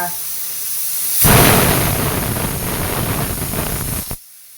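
A pressure cooker releases steam in a loud, continuous hiss that bursts in suddenly and holds for about three seconds before cutting off abruptly.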